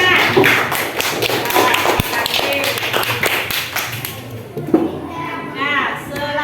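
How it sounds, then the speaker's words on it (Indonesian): Children in a classroom clap in a burst of uneven thuds and taps, mixed with children's voices and a teacher talking, with the clapping fading as speech continues. "tepuk tangan Jasmana."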